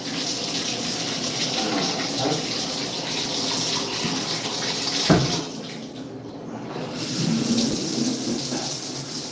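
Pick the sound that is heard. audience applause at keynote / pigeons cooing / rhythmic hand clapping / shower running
shower running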